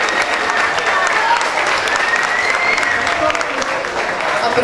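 A crowd at a live album launch concert applauds loudly and continuously, close and dense, with whoops and cheering voices mixed into the clapping.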